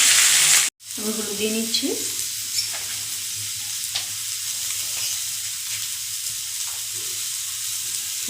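Potatoes sizzle and fry steadily in a pan over a home stove, a continuous close crackling hiss that follows a brief clatter as they go in; a voice speaks briefly near the start.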